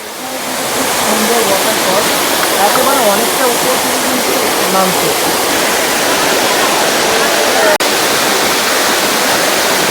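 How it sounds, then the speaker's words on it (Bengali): A waterfall at Daringbadi, Odisha, roars as water cascades from top to bottom, a loud, steady broadband rush that fills the scene, with faint voices of people nearby. "জলের ধারা দেখুন কি সুন্দর ওপর থেকে নিচের দিকে নেমে আসছে।"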